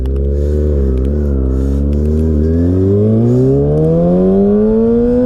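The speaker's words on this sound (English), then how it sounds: "Giving it a little bit of throttle, once you roll off the throttle, it tries to die and sometimes succeeds." A 2019 Kawasaki Ninja ZX-6R fitted with a full M4 GP exhaust idles with a loud, steady drone, then its engine note dips briefly and climbs smoothly as the throttle is opened, rising in pitch through the second half.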